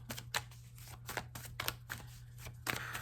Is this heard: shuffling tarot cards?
yes